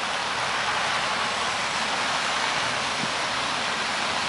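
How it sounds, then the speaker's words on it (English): Steady rain falls during an outdoor skatepark christening ceremony, a dense, even hiss with no breaks, alone and without talk. "I think it's great that it's raining."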